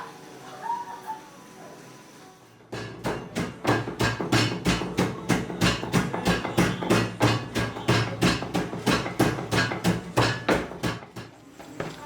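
Vegetables, spinach and spices being crushed together with a pestle to season meat, heard as a fast, steady run of loud rhythmic pounding thuds that goes on without a break.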